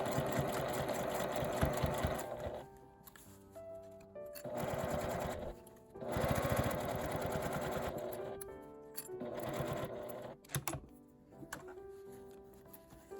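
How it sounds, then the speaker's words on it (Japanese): Sewing machine stitching near the zipper end of a lidded zipper pouch, running in several short bursts of rapid mechanical whirring with brief pauses between them, close and clear with no talk. "押さえを下ろして縫い目の下を縫います"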